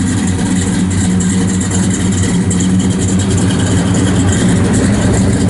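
A 1967 Chevrolet Chevelle SS 396 V8 runs loud and close, with a steady deep rumble and no pauses.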